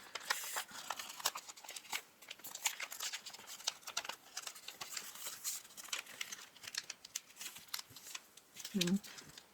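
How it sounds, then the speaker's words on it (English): Origami paper being creased and folded flat into a Christmas Santa's boot, with soft, close crinkles, rustles and brief taps coming and going steadily, and a slightly louder handling noise near the end. "You want to open and fold flat, following that diagonal crease that you've just made."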